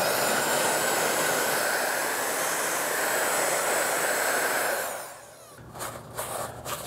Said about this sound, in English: So I'm gonna heat it up with the heat gun